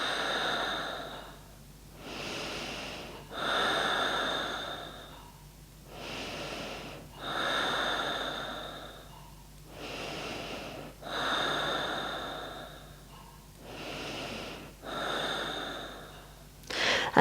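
Slow, deep breaths during a yoga pose, about eight steady inhale-exhale cycles close to the ear, each a soft airy rush separated by brief quiet pauses.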